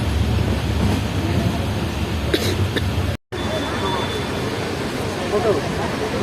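Steady, heavy rumble of the Kolkata–Sairang Express moving at speed after Krishnanagar, heard from inside a carriage, continuous throughout with faint voices in the background.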